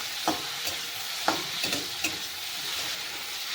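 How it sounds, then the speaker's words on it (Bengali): Tomatoes frying with turmeric powder in a pan, stirred with a few sharp scrapes and taps of the utensil over a soft, steady sizzle, close by with no talking. "এর ভেতরে দিয়ে দেবো হলুদ গুঁড়ো। ভালো করে একটু নেড়ে চেড়ে দেবো।"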